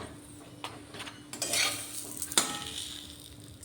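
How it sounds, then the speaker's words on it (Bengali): A sattu-stuffed paratha fries in oil in a pan until crisp, giving a soft steady sizzle punctuated by a few light clinks and scrapes of a utensil against the pan, with no talking. "এবার লাল লাল করে মুচমুচে করে ভেজে নেবে।"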